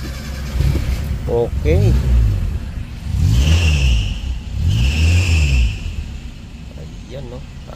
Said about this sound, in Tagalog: Tignan nga natin yung ganda ng takbo ng makina.